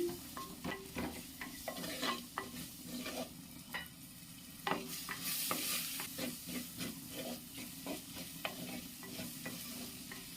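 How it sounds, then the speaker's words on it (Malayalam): Tomato sautéed in a pan for masoor dal curry, with soft sizzling under a run of irregular scraping and tapping strokes from the stirring spoon, close and fairly quiet, with no voices. "അതിലേക്ക് ഒരു തക്കാളിയാണ് അതും കൂടെ ചേർത്ത് കൊടുത്ത് നമുക്കൊന്ന് വഴറ്റിയെടുക്കാമേ"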